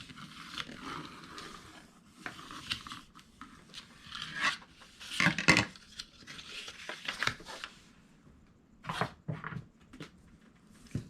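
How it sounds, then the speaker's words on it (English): Paper envelopes are folded and burnished by hand, soft rustling, rubbing and scraping strokes coming in irregular bursts close by, fairly quiet overall with no talk. "I'm going to go ahead and fold and burnish these"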